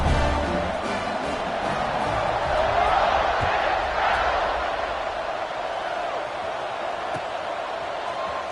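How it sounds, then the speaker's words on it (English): A football stadium crowd buzzes with a steady roar through an LSU versus Ole Miss game, sustained broadband noise swelling slightly mid-way, with scattered shouts and no clear individual voices. "this crowd is buzzing after that last score"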